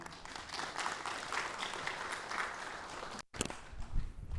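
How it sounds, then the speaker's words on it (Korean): A workshop audience claps together for a provincial economic vice-governor, a fairly soft and steady round of applause that cuts out abruptly and then resumes with a few louder claps. "한 번 더 우리 염태영 경제부지사님을 위해서 박수 한번 하시겠습니다"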